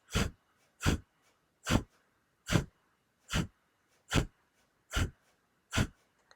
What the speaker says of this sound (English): With breath of fire, with each exhalation, you snap the belly button in towards the spine